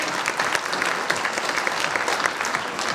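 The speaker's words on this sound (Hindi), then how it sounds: "जोरदार तालियां उनके लिए" Audience at a Hindi comedy poetry gathering applauds a renowned humour poet, producing lively, dense clapping with sharp individual claps standing out, continuous and fairly close.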